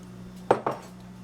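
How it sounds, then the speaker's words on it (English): Rice poured into a cooking pan at home, two short clattering bursts in quick succession over a steady low hum, fairly close and moderately loud. "we're going to take this rice and we're going to put it in a pan"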